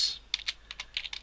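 Close-up clicking of keys on a computer keyboard, quick irregular taps in short bursts, crisp and alone without speech.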